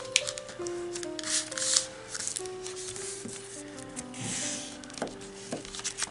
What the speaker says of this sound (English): now we're going to lift this crease up and we're going to fold it over the raw edge